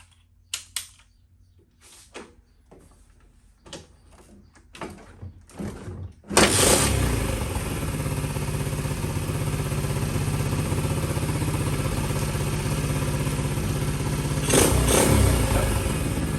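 A Honda CT110 motorcycle engine is started after several seconds of faint clicks and small mechanical noises, then catches and runs at a steady, loud, close idle with no talking.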